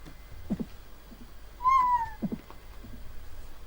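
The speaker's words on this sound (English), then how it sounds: "There's a cat in the surgery." A single drawn-out meow from a cat in a surgery room in the Amiga game Life & Death, clear and close over a quiet background with a few soft clicks around it.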